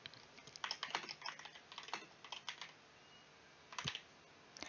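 Fingers tap out text on a computer keyboard, a quiet, irregular patter of clicky keystrokes in short bursts with brief pauses, close by and alone.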